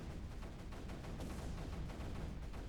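Muffled, steady rumble of mortar fire and weapon bursts in the strategy game Creeper World 3, faint and continuous with soft repeated thumps blending into a dense background wash.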